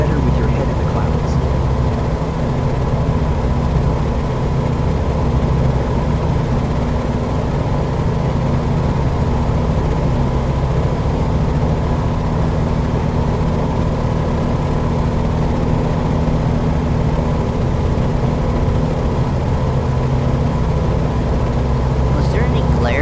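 A steady, droning aircraft engine hums without pause in Microsoft Flight Simulator, its low throbbing tone close to a helicopter's rotor beat, with someone talking over it.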